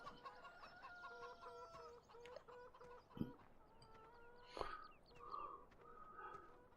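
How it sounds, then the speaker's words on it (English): White hens clucking nearby in a farmyard, steady overlapping clucks with a couple of sharp thumps and a brief louder squawk midway. "Oh, chicken."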